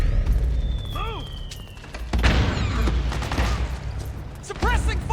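Bursts of rapid gunfire and heavy booms from Metal Gear Solid 4 combat, loud and close, mixed with shouted voices giving orders over the shooting.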